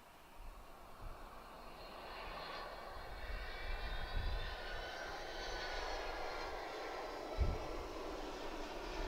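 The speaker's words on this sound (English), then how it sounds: "As we see this FedEx 767 landing." A FedEx Boeing 767 landing at Chicago O'Hare airport, its jet engine roar growing steadily into a broad rushing rumble, fairly distant, with a low thump partway through and no talking.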